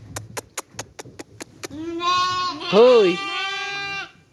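Goats or sheep bleat in a farmyard pen. Rapid clapping or tapping comes first, then a sustained, wavering bleat rises close by, with a voice briefly heard.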